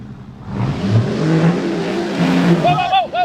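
A classic truck's engine rises from idle into a hard rev as it accelerates, a loud climbing roar with tires squealing near the end and a voice shouting over it.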